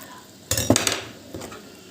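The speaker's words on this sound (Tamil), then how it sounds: "மைதாவை நல்லா தண்ணியில் இப்படி மிக்ஸ் பண்ணிக்கலாம்." A spoon scrapes and clinks against a bowl in a few quick strokes, close up, with quiet room noise between, as maida flour is mixed with water.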